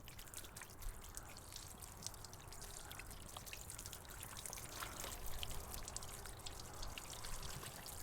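Water sprayed onto the door seal of a Mercedes SL roadster to mimic rain, a steady close hiss and patter of running, dribbling water that continues throughout without pause.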